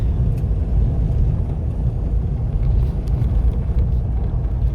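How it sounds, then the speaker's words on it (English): A car drives along the old Coorong dirt road with tyres not let down, giving a steady, loud low rumble of engine and road noise from inside the vehicle, with no talk. "Today we're going for a drive on the old Coorong road."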